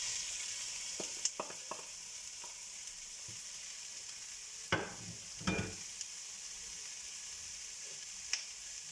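Onion with red and green bell peppers frying in a pan, a soft steady sizzle broken by scattered clicks and a couple of louder stirring scrapes, close but fairly quiet, no voices.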